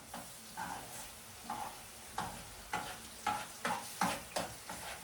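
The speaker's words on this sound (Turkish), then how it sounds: "Salçanın kokusu çıkana da azıcık kavrulsun da." Tomato paste roasts in oil with a faint sizzle under a string of regular stirring strokes, each one a soft scrape against the pan, coming at roughly half-second intervals.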